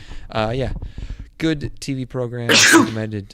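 One sharp, breathy sneeze bursts out near the end, close and loud, after a stretch of plain talk.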